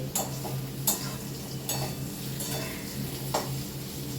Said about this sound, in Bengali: এখানে আলুটা ভেজে নিচ্ছি